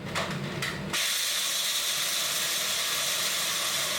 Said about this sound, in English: I'm going to run them through my little food chopper.